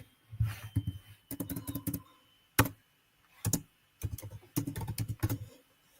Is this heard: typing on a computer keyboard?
yes